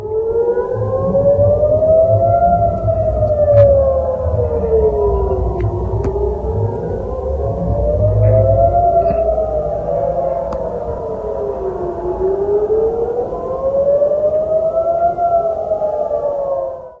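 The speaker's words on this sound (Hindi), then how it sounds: "सायरन बजते हैं और लोग भागना शुरू कर देते हैं।" Air raid sirens wail across Israel, several loud rising-and-falling tones overlapping and cycling slowly in long sweeps, sustained for the whole stretch with distant rumbling underneath.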